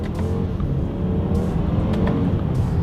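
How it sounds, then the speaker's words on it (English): Close, loud engine roar from a BMW X3 accelerating hard, with paddle-shifted gear changes heard inside the cabin as a steady, rumbling drone with brief shifts in pitch, no voices. "Let's do a quick little acceleration here."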